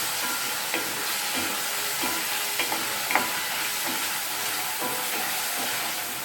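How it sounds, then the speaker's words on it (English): Turmeric paste gets stirred into vegetables frying in a pan for a Jamaican-style tofu scramble, giving a constant sizzle marked by repeated light scraping strokes and taps of a utensil. "Stir that in."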